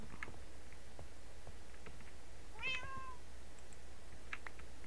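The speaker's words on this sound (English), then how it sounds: "It's so much easier to leash a cat in Minecraft than in real life." A cat in Minecraft gives a single short, clear meow midway through, over a steady quiet game background with faint scattered ticks.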